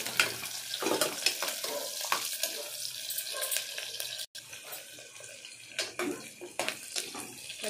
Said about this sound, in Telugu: కుక్కర్లో నూనె వచ్చి ఎర్రగడ్డ, పచ్చిమిర్చి వేస్తున్నానండి